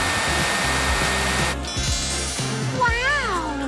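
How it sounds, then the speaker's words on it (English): A hair dryer blows steadily up close, drying curls formed around soda cans, with a voice and a higher tonal whine over its rushing airflow. "blow dry those new curls into place"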